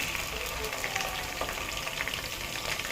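Mutton pieces frying with ginger in a pan for Telangana-style mutton curry, giving a steady, close, continuous sizzle with bright crackling throughout and no talking.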